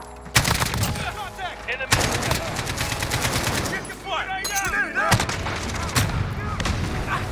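AK-47 fire in the video game Modern Warfare: sharp, loud bursts of automatic shots in several rapid strings with short gaps between, plus sci-fi electrical zaps and chirps, with a voice faintly underneath.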